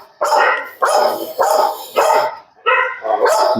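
A dog barks loudly and close by, six sharp barks at a steady rhythm with short gaps between them, with no other sound.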